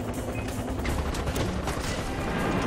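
Video game gunfire from Far Cry 4 aimed at a helicopter, a dense, steady barrage of shots and blasts filling the whole stretch at a constant level.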